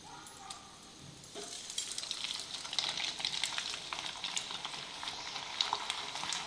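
Sabudana and potato chakli frying in hot oil, a steady bright sizzle and crackle that swells after the first second and continues evenly, close and unbroken, with no talking.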